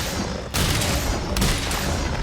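In Monster Hunter World: Iceborne, a ballista shot and then a bomb are fired. Two sharp, loud blasts a little under a second apart cut through a constant roaring battle background.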